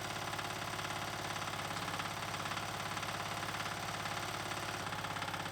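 Progarden Campo T12/T18 mini tractor fitted with a tiller, its engine idling steadily and loud up close, a continuous rhythmic mechanical drone with no talk over it.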